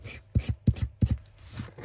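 Craft cardstock edges are sanded by hand in quick rasping strokes, about six close scrapes grouped in pairs, then a fainter rub, with no talking.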